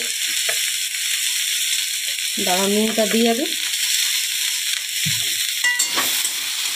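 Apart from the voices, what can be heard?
teasel gourd and bitter gourd frying in pan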